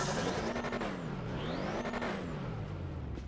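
An engine in the game GTA 5 fires up and revs, its pitch swelling and falling in a couple of sweeping surges, loud and close with a steady motor drone beneath.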